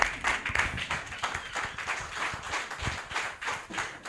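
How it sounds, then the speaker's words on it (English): An audience applauds after a presentation at a volunteer leadership talk, a dense, steady patter of many hands clapping at moderate distance, sustained without a break. "That presentation deserves a bigger standing ovation and a bigger hand clap"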